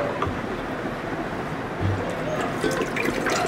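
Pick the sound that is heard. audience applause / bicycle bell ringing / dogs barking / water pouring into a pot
water pouring into a pot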